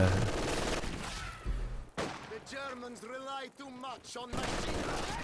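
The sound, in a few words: PPSH submachine gun fire in a video game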